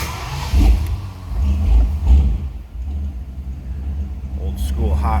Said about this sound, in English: Let's go ahead and start this car up so you can hear it run.